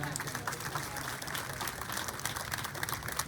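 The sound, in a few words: audience applauding at rural women's day ceremony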